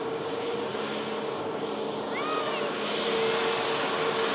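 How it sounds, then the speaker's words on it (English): A Norwegian Boeing 737 MAX airliner rolls off the runway, its engines giving a steady broadband roar with a faint whine. A voice talks briefly over it. "As the Norwegian Max aircraft vacates in front of us at the runway visit part."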